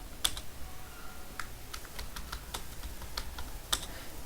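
Keystrokes on a computer keyboard, entering a domain name during Active Directory setup: sparse, faint clicks spaced irregularly, with two slightly sharper taps near the start and end, over a quiet hiss.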